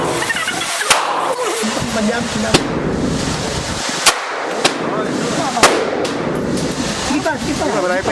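Gunshots ring out as sharp, isolated cracks, several spaced a second or more apart, over constant outdoor background noise while people talk throughout.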